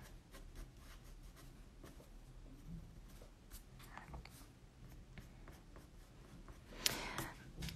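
A Faber-Castell colored pencil rubs and scratches on paper in short, quiet strokes, a soft close-up scraping texture with a slightly louder scratch near the end, no voices.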